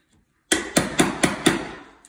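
A chisel struck with a mallet to flatten the wooden seat for a newel post fastener, five sharp, evenly spaced blows, close and loud, each ringing briefly.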